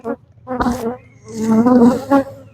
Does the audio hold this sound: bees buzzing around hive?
yes